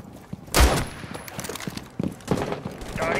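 Gunfire erupts in the Rainbow Six Siege video game: a sharp, loud shot opens the sequence, and scattered lighter shots follow over background game noise.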